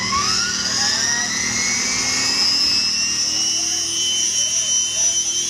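A small engine, apparently a homemade model aeroplane motor, runs steadily at low RPM with a continuous high whine and faint low hum, fairly close and loud throughout.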